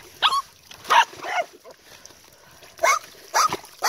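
A dog that has been playing in swamp mud barks and yelps in short bursts, several sharp calls spaced irregularly at close range with quiet gaps between.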